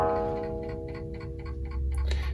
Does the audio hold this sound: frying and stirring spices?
no